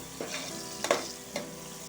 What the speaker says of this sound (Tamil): இன்னும் நல்லா வதங்கட்டும்